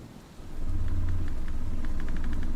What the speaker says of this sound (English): The storm has begun to crash to the trees, creaking and pulling upon them.